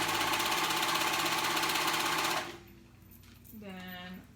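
A sewing machine runs a fast, steady, close stitching rattle while sewing a stretched dress neckband, then stops abruptly after about two seconds, leaving quieter room sound with a faint voice.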